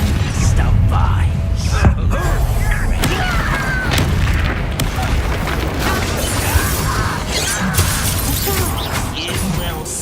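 An Incendiary fire spell in Hogwarts Legacy erupts in loud roaring booms and crackling bursts amid battle clatter, a dense continuous din with faint voices mixed in.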